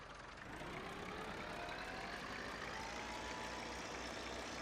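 A tractor engine in Farming Simulator 15 drones steadily with a low rumble and a rising mechanical whine, continuous and close.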